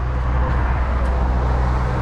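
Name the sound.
Freightliner truck diesel engine being cranked and revved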